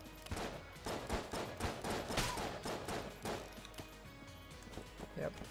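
Rapid bursts of gunfire from the Enter the Gungeon video game, a dense fusillade of repeated shots with thuds and impacts, loud and continuous across the clip.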